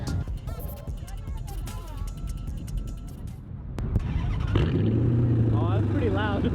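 A Chrysler 300C engine starts and settles into a loud, steady exhaust drone, preceded by a few seconds of people talking close by and background bustle.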